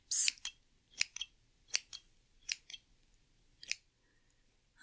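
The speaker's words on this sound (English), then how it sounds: "Just give you a couple more snips." Scissors snipping through cord in a quiet room, several crisp close cuts in small bursts of one to three snips spaced about a second apart.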